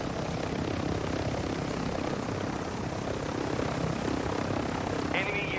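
Helicopter rotor and engine drone, steady and fairly close, inside the Warzone 2.0 video game, with a short electronic tone near the end.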